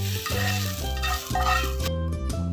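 Fried vermicelli being stirred into a sweet milk mixture for sheer khurma, an Eid dessert, with steady close scraping and swirling in the pot over a soft sizzle, and no talk.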